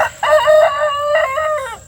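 A rooster crows loudly and close in a portable grass-field chicken coop, one long strained call in two parts standing clear over quiet background.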